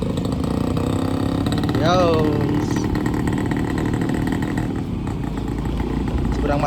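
A motorcycle rides along on a rural trip out to a farm, its engine droning steadily and close throughout, with a shouted greeting and other voices over it.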